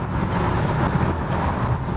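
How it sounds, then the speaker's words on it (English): BMW 330i with a very muffled exhaust, a soft low rumble blended with faint intake and turbo whoosh heard from inside or near the car, steady and quiet with no voices. "this exhaust is really muffled."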